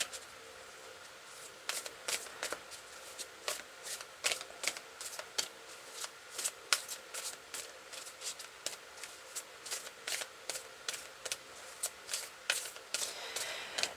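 Dragon oracle cards being shuffled by hand, a steady run of quiet crisp riffling snaps and slides repeating for several seconds, close and soft with no talking.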